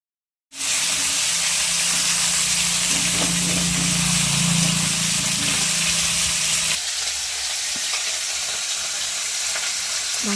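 Bhakur fish fries in hot oil in a kadai, giving a loud, continuous close-up sizzle that begins abruptly and holds steady throughout, briefly thinning partway through.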